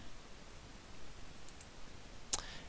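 A single short, faint mouse click on an update button in a Zen Cart admin panel, heard once over quiet background hiss.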